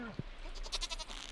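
A goat in the farming game Stardew Valley gives a faint, brief, warbling bleat after a short blip, set against quiet game background sound.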